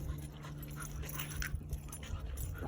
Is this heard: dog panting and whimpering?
yes